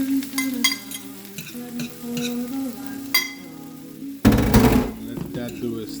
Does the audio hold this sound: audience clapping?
no